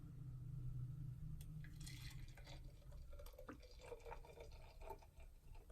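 Celery juice fresh from a Breville juicer pours into a glass, a quiet, steady liquid trickle with soft drips and splashes, faint and close, with no talking.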